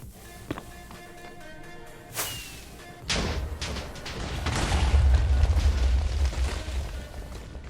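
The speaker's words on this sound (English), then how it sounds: "I'm dreading that TNT just all of a sudden exploding going everywhere." TNT blowing up in Minecraft 1.19.4 on a hardcore survival world: a sharp crack near the two-second mark, then a big booming blast from about three seconds that swells into a long, rumbling, crumbling roar.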